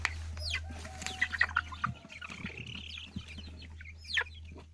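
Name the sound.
chicken or young rooster clucking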